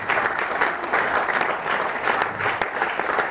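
Audience applause at a live talk event as a guest named Stephen comes forward, a dense, steady wash of many hands clapping that fills the room, fairly close and continuous throughout.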